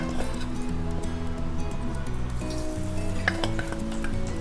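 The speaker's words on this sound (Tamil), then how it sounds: "இப்போ நம்ம மேரினேட் பண்ண கோபிஸை நம்ம ஆயிலில் போட்டு டீப் ஃப்ரை பண்ண ரெடியாக இருக்குது" Marinated cauliflower (gobi) pieces deep-frying in hot oil give a steady, close, continuous sizzle and bubbling, with faint tonal background music underneath.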